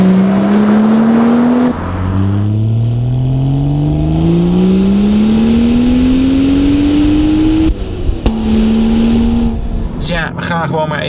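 A BMW M135i's engine revs and pulls hard through rising gears, pitch climbing steadily in long sweeps with brief drops at each shift, loud and close throughout, ending with a short burst of higher whine.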